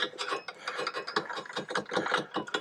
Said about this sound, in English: I'm doing it like that, so I'm actually getting it to ratchet round